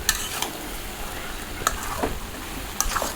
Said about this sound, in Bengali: কষাচ্ছি আমি আস্তে আস্তে।